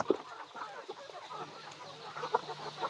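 Native country roosters and hens cluck steadily on a Tamil farm holding a couple hundred roosters, a busy, overlapping flock with a few sharper calls standing out near and far.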